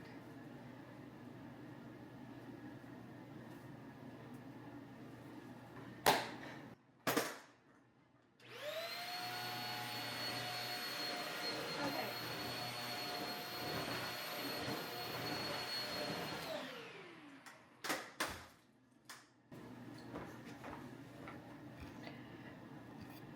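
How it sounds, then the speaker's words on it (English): An upright vacuum cleaner running over a thin washable rug laid directly on a bare floor, whining loudly and steadily for several seconds between clunks and bumps, then winding down. "Let's give it a vacuum."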